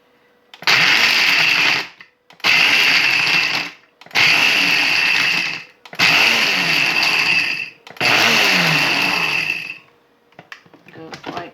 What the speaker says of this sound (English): you can use any kind of a food processor